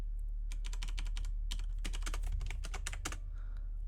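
Fast bursts of typing on a computer keyboard as Nix code is entered, close and crisp over a steady low hum, with a short pause near the middle and no talking.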